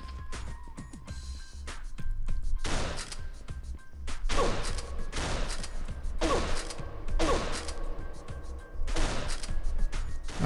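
Rapid bursts of gunfire in the video game Pixel Gun 3D, several loud clustered volleys repeating every second or two over a continuous game background.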